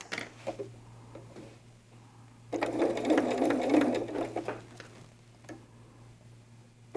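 Sewing machine running a basting stitch on fabric for a bunny doll, a faint rapid mechanical chatter rising for about two seconds in the middle, with soft ticks and quiet pauses on either side.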